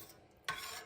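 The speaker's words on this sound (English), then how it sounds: "Stir it around real nice to get it all incorporated so it's all equal creamy and brothy and" A spoon scrapes briefly through a creamy lobster pan roast in a pan, a single short stirring swish after a near-silent pause, faint and close.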